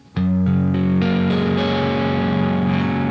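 Distorted electric guitar chord with the first two strings open, the rest barred and the third finger added on the third string, struck once and sustained loudly with effects-unit coloring; a short quieter note precedes it.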